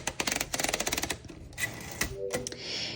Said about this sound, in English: Let's go ahead and load that paper again